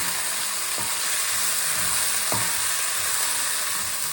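Frozen vegetables hit hot oil for coconut fried rice, giving a loud, steady sizzle throughout, broken by two light knocks of a utensil.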